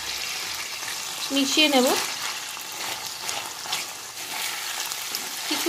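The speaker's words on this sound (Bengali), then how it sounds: "কিছুক্ষণ এটাকে ভাজতে হবে। আদা, রসুন আর কাঁচা লঙ্কাটা থেকে একটা সুন্দর গন্ধ বেরোনো অবধি এটাকে একটু ভেজে নিতে হবে।" Minced ginger, garlic and green chilli fry with chicken pieces in a pan for a sour, spicy chicken soup, a dense steady sizzle with a short spoken phrase partway through.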